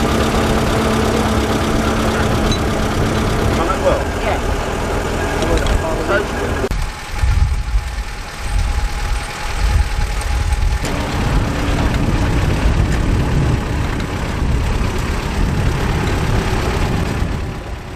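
A vintage tractor engine idles and chugs steadily during a mole plough land drainage demonstration, loud throughout with a brief dip midway while a person talks over it.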